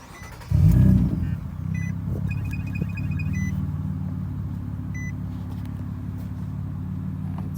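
A car engine cranks and catches with a loud burst, then settles into a steady low idle after its MAF sensor is cleaned, with faint beeps early on.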